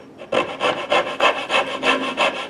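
Rasp or file shaping the wooden handle of a custom knife, about seven loud, rhythmic rasping strokes heard up close with no talking.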